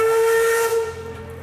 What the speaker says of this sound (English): The old steam whistle may not blow daily, but when it does, it sure brings back memories of a more simplistic time.